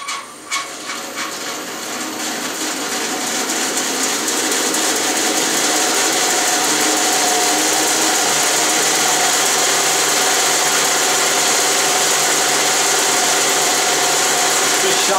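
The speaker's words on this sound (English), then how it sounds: "So let me turn the bandsaw on." A bandsaw fitted with an upgraded motor starts with a few knocks, then spins up within seconds to a steady, fairly loud whir with a faint hum, running continuously in a workshop.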